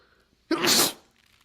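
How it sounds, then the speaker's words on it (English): A single forceful sneeze, close and loud, with a quick sharp burst of breath over a quiet background. "we did everything we could to make ourselves sneeze"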